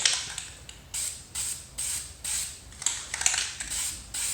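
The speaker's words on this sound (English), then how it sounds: "I'll spray a paper towel and wipe it down with some fluid film" A series of short aerosol spray bursts of lanolin-based Fluid Film lubricant onto a paper towel, about eight hissing puffs in an uneven rhythm, close and fairly loud, with no talking.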